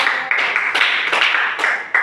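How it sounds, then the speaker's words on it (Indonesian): Schoolchildren in a classroom clapping together for a student group, loud close claps in bursts with distinct sharp onsets that fade between strikes. "beri sekali tepuk tangan untuk kelompok 1"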